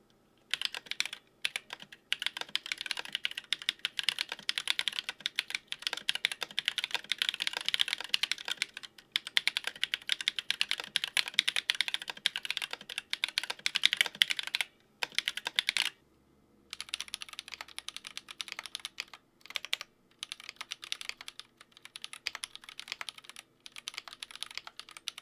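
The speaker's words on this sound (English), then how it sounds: "Here's how they sound unlubed." Steady, fast typing on a mechanical keyboard with unlubed Glorious Panda tactile switches, a dense run of clacky keystrokes close up, with a short pause midway and no voices.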